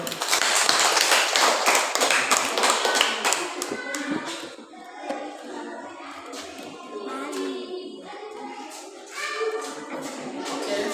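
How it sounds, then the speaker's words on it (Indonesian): A group of people applauds, dense steady hand clapping that is loud at first and then eases into a thinner, lighter patter, with faint voices mixed in. "Oke, tepuk tangan untuk Freddy dulu."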